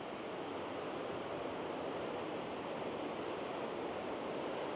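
Sea waves wash onto the beach at Sheringham as a faint, steady broadband rush, heard from a distance and blended with light wind, with no voices.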